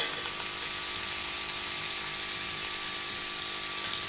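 Water is splashed onto chopped tomatoes frying in a hot pan for matar pulao, giving a steady, loud, close hiss and sizzle that runs without pause and with no talk.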